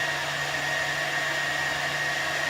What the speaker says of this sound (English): Now I'm going to put it on the 60-second blend, where it's going to increase.